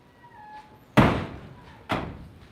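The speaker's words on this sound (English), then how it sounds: "That door over there is slammed." Wooden barn door at an abandoned barn slamming shut in strong wind, two sharp heavy bangs about a second apart, each with a short rattling decay over gusty background.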